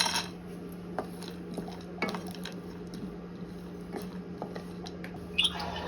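Cashews, raisins and almonds are stirred into hot ghee in a kadai, with light sizzling and faint scrapes and clinks of a spoon against the metal pan at a steady, quiet level.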